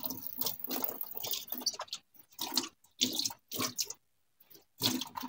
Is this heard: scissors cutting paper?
no